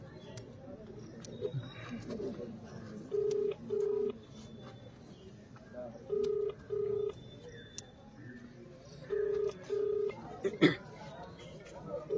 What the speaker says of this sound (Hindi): एसडीएम को फोन लगा रहे हैं, एसडीएम भी फोन नहीं उठा रहे हैं